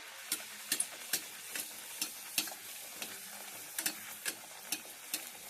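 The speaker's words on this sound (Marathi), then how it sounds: "आता आपण त्याच्यामध्ये अशा पुऱ्या तळून घेऊया." Puris frying in hot oil, with a steady bubbling sizzle broken by a dozen or so sharp crackles and pops at irregular intervals, close and moderately loud with no talking.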